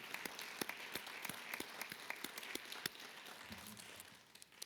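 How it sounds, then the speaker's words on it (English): A crowd applauds, many hands clapping in a dense, uneven patter at moderate distance, gradually thinning out toward the end. "Let's give them a round of applause."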